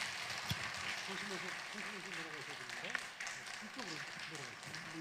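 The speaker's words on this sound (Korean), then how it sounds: "큰 박수로 격려 좀 부탁드리겠습니다" A church audience claps throughout a Korean women's worship service, with the applause running under continuous talk from a host.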